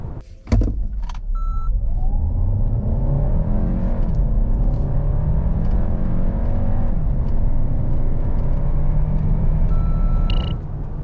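A 2024 Hyundai Santa Fe 1.6T hybrid accelerating hard on a road test, its engine note climbing steadily and loud throughout with continuous road and wind noise, a brief clunk near the start.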